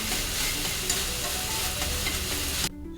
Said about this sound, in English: Pour in the beaten eggs while stirring until the egg becomes fluffy.